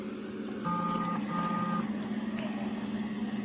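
A car being moved with reversing beeps: a steady series of electronic tones sounding over a continuous vehicle engine hum, fairly close and loud.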